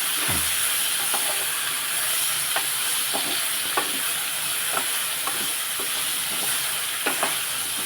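Brinjal frying in oil hisses and sizzles steadily while a spoon stirs it, knocking against the pan in irregular clinks, close and loud, with no talk.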